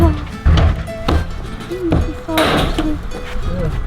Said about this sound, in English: We just gotta chip away this 2x4.